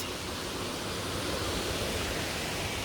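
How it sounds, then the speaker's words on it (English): Steady, dense roar of a nice waterfall nearby, a constant broadband rush of falling water with no breaks, fairly loud and alone. "There is a nice waterfall"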